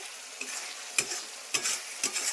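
Raw banana fritter curry is stir-fried in oil, giving a soft steady sizzle broken by a few sharp scraping stirs of a spatula at irregular intervals, close and unaccompanied by voices.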